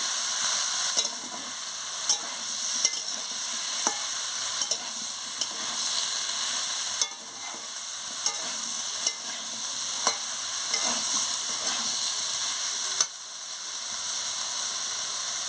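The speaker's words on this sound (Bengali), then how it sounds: "ঝিঙে দিয়ে ভালো করে নাড়িয়ে নেব, কষিয়ে নেব।" Ridge gourd frying in a pan, a continuous close hiss and sizzle punctuated by regular spatula strokes and scrapes at roughly one-second intervals, no voices.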